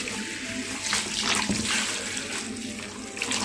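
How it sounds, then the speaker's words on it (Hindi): Very hot water is poured from a vessel over greasy, oil-clogged kitchen chimney filters at home, a steady close splashing gush that runs continuously with no speech. "गर्म पानी से डालेंगे इसके ऊपर।"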